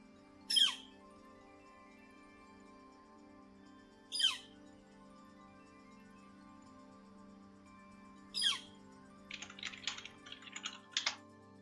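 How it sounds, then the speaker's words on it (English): A northern flicker woodpecker calls three times, loud, sharp, separate notes spaced about four seconds apart, followed by a quick scatter of fainter chattering notes over a steady low background hum. "It is a wonderful spotted woodpecker"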